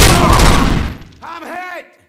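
A burst of rapid gunfire from the game RoboCop: Rogue City, loud and dense for about a second, then giving way to voices talking.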